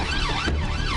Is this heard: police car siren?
yes